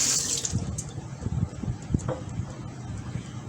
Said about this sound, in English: So I added about 3 16-ounces of water